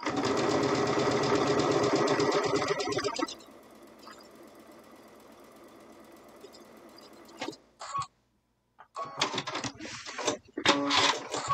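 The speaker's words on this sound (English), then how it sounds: "That's what happens when you're sewing with your needle in one position for a while" A sewing machine stitches a quilt block seam, running fast and loud for about three seconds, then slowing to a quieter hum before short stop-start bursts of stitching near the end.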